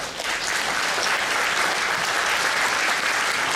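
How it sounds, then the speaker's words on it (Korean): A lecture audience claps together on request at a talk on AI music creation, dense steady applause held at even loudness for several seconds with no voices over it. "다 같이 한번 박수 한번 쳐주실 수 있으신가요?"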